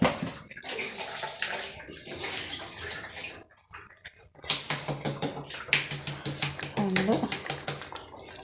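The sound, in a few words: water being poured into a coconut curry pan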